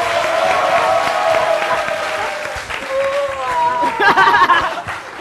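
An audience applauds dancers at a live show; the clapping grows denser toward the end and runs under voices and chatter.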